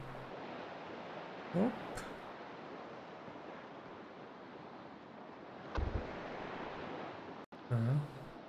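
Sea waves in the video game Salt 2: Shores of Gold, a constant rushing wash of surf and wind around a small boat, with a short spoken exclamation and a few brief bumps.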